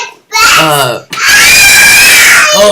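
A young child screams loudly and shrilly indoors during an interview with a teacher, two long sustained shrieks with a short gap, followed by an adult's brief voice at the end.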